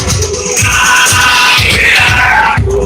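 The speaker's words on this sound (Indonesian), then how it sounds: "Beri tepuk tangan untuk tim favorit." Crowd at a tournament medal and trophy ceremony in Orahua cheering and applauding the favourite team, a loud, dense, continuous roar of clapping and voices that holds steady for about three seconds.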